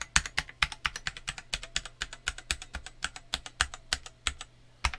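Typing on a Cherry Xtrfy K5 Compact RGB gaming keyboard, a steady run of crisp, close key clicks at a quick, slightly uneven pace with a faint hum underneath.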